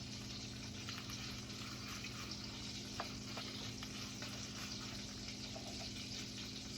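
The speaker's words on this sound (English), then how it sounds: "I hear the pan sizzling, so that means we're close." Soft, steady sizzling of mushrooms frying in a pan, a constant crackle with occasional small pops, fairly quiet and with no talking.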